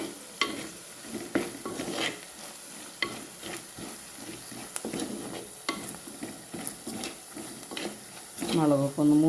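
Chili fries in oil in a pan for a Kerala fish curry while being stirred, giving a soft sizzle under repeated irregular scrapes and clinks of the spoon against the pan, with a brief voice near the end.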